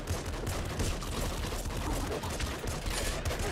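Laser pistol fire in the video game Nuclear Throne comes as a dense, continuous barrage of rapid shots that stays loud and unbroken throughout, with no talk over it.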